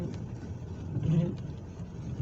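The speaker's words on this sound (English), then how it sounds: "We got a line of cars right here at this crossing here." Cars roll past at a rainy railroad crossing, a moderate engine and tire hum rising briefly in the middle as a vehicle goes by, with a voice speaking faintly over it.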